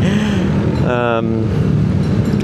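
An FKM Fyro V2 180 motorcycle accelerates on the road, its engine loud and close with a brief rising whine over heavy rushing wind noise.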